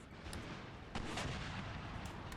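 Musket gunfire from a Napoleonic-era battle in Empire Total War, a dense crackle of distant volleys with a few sharper shots rising above a steady roar of battlefield noise, no voices.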